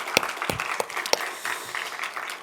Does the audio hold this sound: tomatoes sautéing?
no